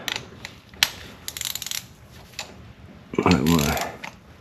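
Ratchet clicking as spark plugs are tightened on a 2010–2014 VW 2.5 L engine, with scattered close mechanical clicks and a brief louder burst of tool handling near the end.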